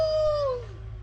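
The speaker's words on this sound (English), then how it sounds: "Is that Togo howling?" A wolfdog howls at a wolfdog sanctuary in Washington, one long, close, clear wavering note that slides downward and fades out over about a second, with no talk.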